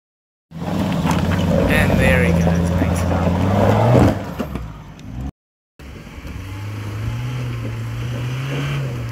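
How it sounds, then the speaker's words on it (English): A new Toyota Hilux Rugged X driven on a slippery off-road track, its engine droning loudly and rising in revs, with wind buffeting the microphone and a voice talking over it. After a short cut the engine continues at a steadier pitch. "Here's Hendo and his shiny new Hilux Rugged X getting it done."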